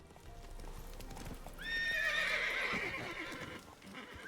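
Horse in The Witcher 3 game, hooves clip-clopping throughout with a loud, shrill neigh rising over them in the middle, close and clear.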